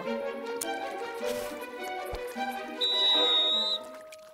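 In the video game PRIM, a bright, high whistle blast sounds for about a second over layered musical tones and soft ticking, sitting clearly above the background.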